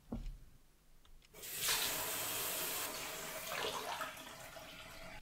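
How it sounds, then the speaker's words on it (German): A water tap runs in the horror cooking video game Horror Noodles, a steady loud hiss of flowing water starting abruptly after a short quiet moment and continuing to the end with no talk over it. "Wir können ja jetzt Wasser zapfen."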